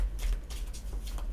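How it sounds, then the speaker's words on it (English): Rider-Waite-Smith tarot deck (Pam's Vintage Tarot) being shuffled by hand, a quick series of soft, close papery riffles and slides in short bursts, with no talking. "I'm just going to shuffle the deck."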